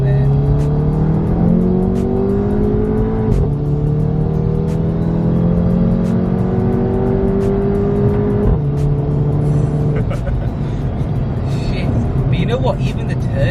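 A stage 1 tuned VW Golf GTI MK7 with a manual gearbox pulls hard in second gear: the engine note climbs steadily, drops at each gear change and climbs again, loud and close from inside the car.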